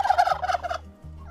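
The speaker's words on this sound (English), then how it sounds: "These turkeys are very ready to get out." Turkeys gobble in a homestead aviary, a close, rapid burbling run of calls that breaks off, followed by a low steady hum.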